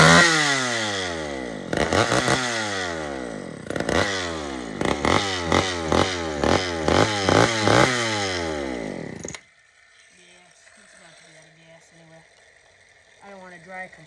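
An old Sears Explorer II chainsaw fires up on choke and runs close and loud, its engine rising and falling through a series of sharp revs before cutting out abruptly, leaving only faint background noise.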